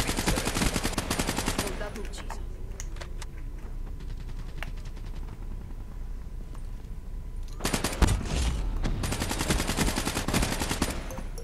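Gunfire in the multiplayer video game Black Ops 3, with dense rapid bursts of automatic fire at the start, a quieter stretch of scattered shots in the middle, and heavy bursts again near the end.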